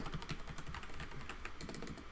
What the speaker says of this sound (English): I'll just start typing in description